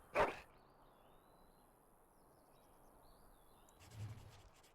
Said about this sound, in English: I've always wanted a dog like this.